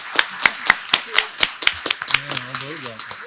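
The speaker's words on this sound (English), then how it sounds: "can we get a round of applause for all the authors?" Sparse applause from an audience at an authors' panel event: a handful of distinct, sharp claps at first, thinning out as a voice begins talking over the last second.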